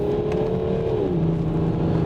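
A BMW 335d diesel pulling hard in second gear, its engine note climbing, then dropping as revs settle, loud and close from the cabin, with no voices over the steady drone.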